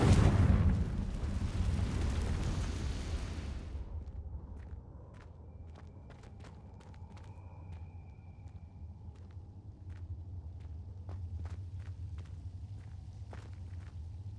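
A Confringo blasting spell goes off in a Harry Potter video game, a loud broadband burst lasting a few seconds that cuts off abruptly, followed by a low rumbling ambience with scattered faint clicks and taps.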